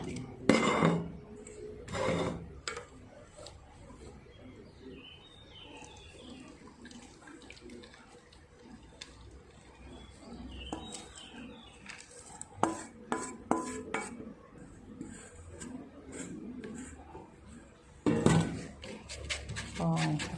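Thai cup-cake batter being strained through a sieve, with metal clinks and scrapes of utensils against a bowl and sieve, soft liquid sounds between, and someone talking over parts of it.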